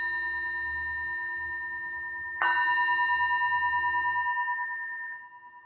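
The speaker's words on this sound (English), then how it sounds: "we'll do this together with the bell" A meditation bell at a Zen temple service is struck once, a bright clear strike followed by a long ringing decay with steady overtones, heard alone after a low, sustained tone in the background.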